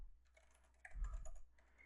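Fingers tap out a short, quiet run of keystrokes on a computer keyboard at a desk, soft clicks at close range with a brief louder cluster in the middle and no talk.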